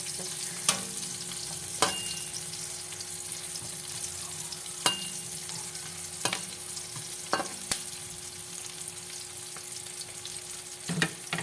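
Fish and vegetables sautéing in a hot frying pan, with steady close sizzling and frying hiss broken by sharp clinks of a utensil stirring and scraping the pan several times, no talking.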